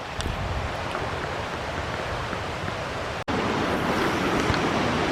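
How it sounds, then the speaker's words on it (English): French River Falls, a small waterfall in northern Minnesota, produces a steady broadband rush of falling water, close and constant, with a short dropout partway through. "I wouldn't classify this as a big waterfall."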